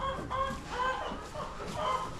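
A broody hen sitting on her nest gives soft, low repeated clucks and grumbles, close by and fairly quiet against a faint rustling background.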